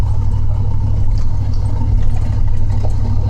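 A 1997 Dodge Ram 1500 truck drives along the road, its engine a loud, steady low-pitched drone with constant road rumble and no talking.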